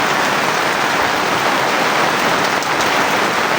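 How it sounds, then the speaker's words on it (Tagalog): Heavy rain pours down over a flooded backyard in a dense, constant hiss, loud and close with no breaks and no voices. "Sobrang lakas ng ulan dito."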